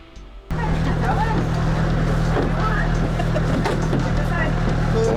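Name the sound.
tour boat motor on Swift Current Lake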